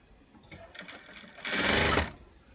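Jack sewing machine stitching a blouse, a steady motor whir rising into a loud sustained run of stitching for about half a second, with lighter clicks and handling before it.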